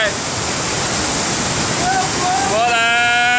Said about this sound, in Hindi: झरना गिरते हुए